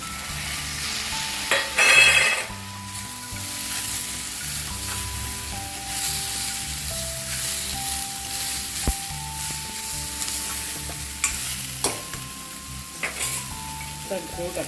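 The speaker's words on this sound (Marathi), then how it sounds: "आता आपण याच्यामध्ये तुरी टाकणार आहोत" Sprouted pigeon peas tip into a hot pan for a tamarind and jaggery dal, landing with a brief sizzling rush before steady frying hiss and occasional scraping stirs carry on, close and without speech.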